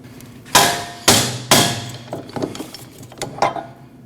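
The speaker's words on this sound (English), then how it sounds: "you're going to have to hit it with a hammer in this section just to remove it from the knuckle" Hammer blows on a steel wheel bearing tool, driving the bearing out of the rear knuckle of a 2014-2023 Jeep Cherokee: three loud, sharp metallic strikes spaced about half a second apart, then several lighter taps and clinks.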